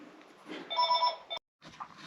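A telephone rings indoors with a short burst of pulsed electronic chirps over faint room noise, then cuts off abruptly to brief silence before quiet background sound returns.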